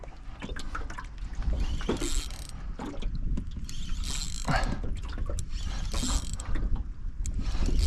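Fishing line peeling off a reel on a boat while fishing with a live bait at Karumba, a continuous ratcheting, mechanical whirr with clicking bursts, close and steady throughout.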